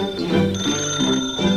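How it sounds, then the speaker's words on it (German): A telephone rings in a children's audio play, a bright trilling bell tone repeating in short bursts, close and clear with no talk over it. "das Telefon scheint zu klingeln"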